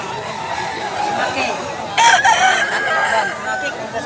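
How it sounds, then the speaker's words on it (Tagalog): Roosters of the tiger hennie breed crow at a farm in Mantalungon, Cebu, with one crow rising loudly and close in the middle of the stretch, over a steady bed of clucking and people chattering nearby. "Daming manok mga idol"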